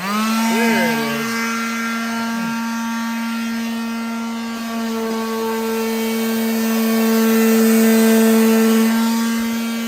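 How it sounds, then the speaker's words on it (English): An electric sander runs on wood for a birdhouse build with a steady, loud mechanical whine and a slight pitch wobble, while people talk over it. "Kevin's starting off by sanding down all his wood"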